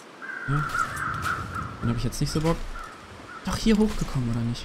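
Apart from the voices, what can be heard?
crows cawing in the video game The Long Dark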